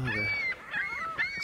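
Seagulls call in a few drawn-out, nasal cries close by on a grey morning after a storm, with faint background noise between the calls.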